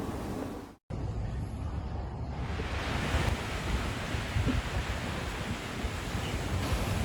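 Ocean waves at a beach roar as a dense, steady wash of surf mixed with wind, loud and close, after a brief break near the start, with no voices.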